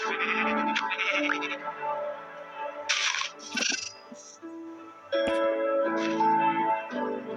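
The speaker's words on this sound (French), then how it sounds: "Oh, attends, j'ai vu un mouton." Sheep in the Minecraft video game bleat repeatedly, several wavering cries in a row at close range, mixed with clicks and other game sounds, and no talking over them.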